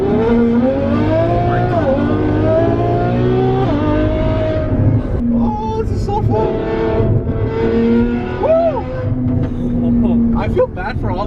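A Ferrari F12 V12 roars hard while driving, loud and close, rising and falling through gear changes with steady high-pitched engine howl and people talking over it.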